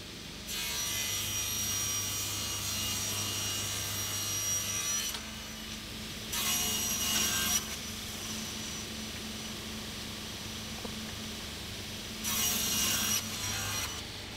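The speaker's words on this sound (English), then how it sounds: "I trimmed them to their final length using my Rockler crosscut sled and stop block" Plywood boards are cut to final length on a Rockler crosscut sled with a stop block, three bursts of steady saw whine with quieter motor hum between them and no talk.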